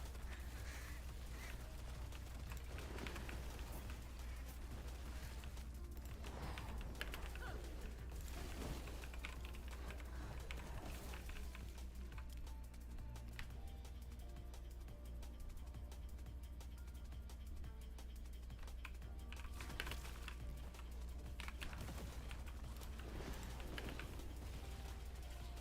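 Computer keyboard typing during a game, a steady stream of faint, close key clicks and taps that continues for the whole stretch over a low background hum.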